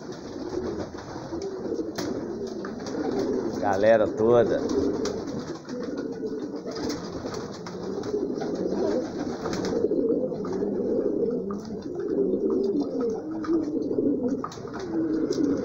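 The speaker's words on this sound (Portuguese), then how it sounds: "Aí é os pombos que voam aqui em casa, tá, gente?" Homing pigeons at a house loft coo steadily in a soft, rolling chorus that runs the whole time, with a person talking over them now and then.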